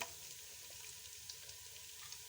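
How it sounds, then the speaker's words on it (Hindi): Garlic ginger paste and green cardamom pods frying in a pan for aloo chicken, a soft, steady sizzle with faint crackles, quiet and close, without speech. "लहसुन अदरक के पेस्ट के साथ मैं 3 अदद सब्ज़ी इलायची डाल दूँगी।"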